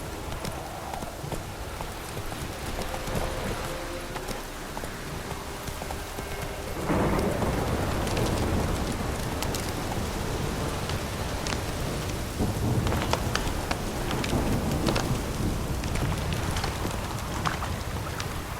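Horse hooves clopping at a steady rhythm through rain in The Witcher 3, accompanied by continuous rainfall and rolling thunder that swells louder partway through.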